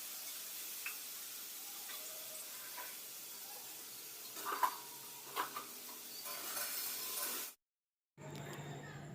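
Potato and bitter gourd chorchori cooking in leftover fish-frying oil, a soft steady sizzle with scattered clinks and stirring taps, close but fairly quiet, cutting off abruptly near the end.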